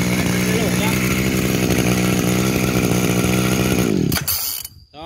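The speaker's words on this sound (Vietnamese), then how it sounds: "Củ đề nó vẫn hoạt động, nó kêu cạch một phát" Small Japanese lawn mower engine cranked by its starter motor, a steady loud buzzing mechanical drone for about four seconds that cuts off abruptly, followed by a brief clatter.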